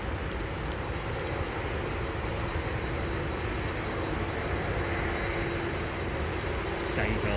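A JetBlue airliner flying near London Heathrow Airport, a steady broad engine roar heard from a distance, constant in loudness, with people talking over it.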